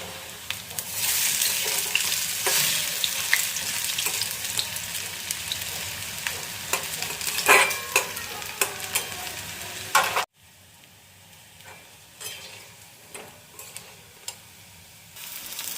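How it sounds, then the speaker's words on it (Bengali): Gima greens fritters fry in hot oil in a pan, giving a steady, dense sizzle with scattered crackles and pops. After about ten seconds the sound drops abruptly to a much quieter sizzle. "দেখতেই পাচ্ছ গরম গরম এখন গিমার শাকের বড়া ভাজা চলছে"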